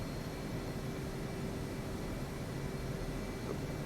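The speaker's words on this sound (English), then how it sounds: "I'm gonna be taking off with low power, holding brakes." A flight simulator F/A-18 Hornet jet sits on the runway at low power for takeoff, a steady broadband roar and whine that stays constant and fairly loud throughout with no speech.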